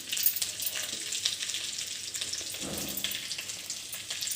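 Green chilies hitting hot oil for kichidi give a steady, close sizzle and crackle that fills the whole stretch, with a brief thicker burst of frying partway through; no one speaks.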